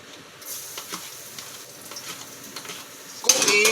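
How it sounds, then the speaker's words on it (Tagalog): Garlic sautéing in a pan, soft close clinks and scrapes from cooking, then a sudden bright sizzle bursting up near the end, no voices heard. "Magigisa tayo ng bawang."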